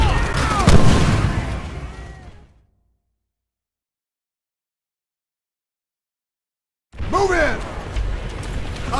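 Gunfire and battle noise from the World War II shooter Call of Duty: World at War, loud bursts and booms that cut off abruptly into total silence for several seconds before the firing and explosions resume.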